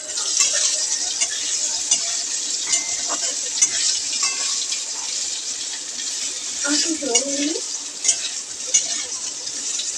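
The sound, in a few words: bitter gourd (uchhe) frying in a pan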